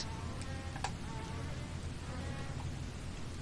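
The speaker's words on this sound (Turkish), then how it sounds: "Sinek vızıltısı gibi bir ses çıkıyor da." A faint, thin fly buzz in the horror video game Daylight drones steadily against a low background hum, with a few soft ticks scattered through it.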